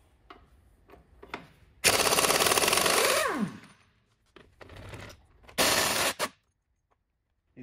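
An impact wrench works rusty lug nuts off old Land Rover Discovery wheels. It gives two long, loud rattling bursts and a few shorter hits, with brief tool clicks between them.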